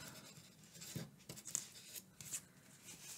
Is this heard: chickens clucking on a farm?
no